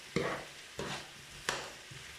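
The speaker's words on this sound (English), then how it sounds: "Now you mix in the rice into the veggies." Rice being stirred into vegetables in a small pan, giving three soft scraping stir strokes about two-thirds of a second apart over a faint steady sizzle, close and fairly quiet.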